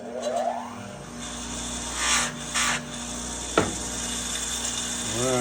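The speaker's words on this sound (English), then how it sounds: "back to the buffing machine" A buffing machine works on aluminum with a steady mechanical hum and rubbing friction, broken by a few brief louder scuffs and one sharp click.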